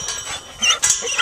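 Dogs in the woods waiting at a property gate whine in short, high, wavering bursts, close and fairly loud, with no talking.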